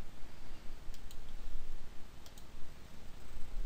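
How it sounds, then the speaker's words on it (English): A Control key press and mouse clicks on a computer keyboard and mouse, heard as two faint pairs of quick, light clicks against a steady room hiss. "we're going to press Control on our keyboard and click slide 8 and 9 to deselect them"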